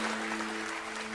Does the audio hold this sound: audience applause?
yes